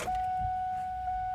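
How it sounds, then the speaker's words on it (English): A Ford Mustang's electric fuel pump switches on with the key, a steady, high whine holding at one even pitch, a faint mechanical hum with a few low thumps underneath. "Turn the key and listen for that pump to come on."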